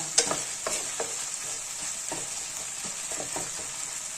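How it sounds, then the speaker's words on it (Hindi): Mutton keema fries in a pan with a constant hiss of sizzling, while a utensil scrapes and stirs it in several distinct strokes, close and moderately loud with no talk. "मैं इसे भून रही हूँ।"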